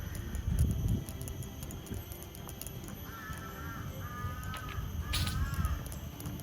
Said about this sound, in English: Yep, we have birds here.